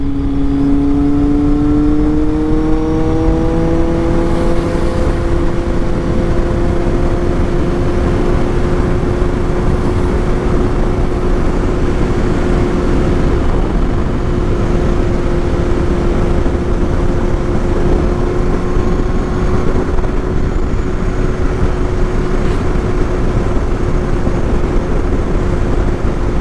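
A Kawasaki Z800 motorcycle fitted with an aftermarket exhaust muffler idles and revs steadily nearby. A strong, continuous engine drone with a slowly rising pitch runs for the whole stretch, with no talking over it.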